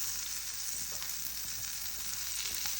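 Washed vegetables frying slowly in butter over low heat make a soft, even sizzle at a low level, with a few faint clicks from stirring.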